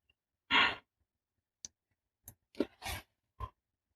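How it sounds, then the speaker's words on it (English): A person yawns once with a long, breathy exhale, followed by a few short, soft mouth and breath sounds close to the microphone in an otherwise quiet room. "Oh, I keep yawning."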